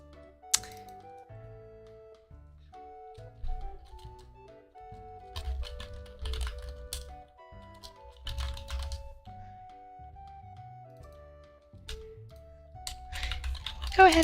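Code being typed on a computer keyboard for a Unity strategy game, with irregular bursts of close key clicks over a soft low hum and faint background tones.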